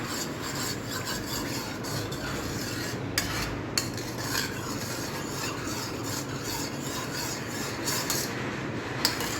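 A homemade mango fruity drink is stirred and mixed in a container, a continuous close rasping swirl with occasional light clinks of the utensil against the side.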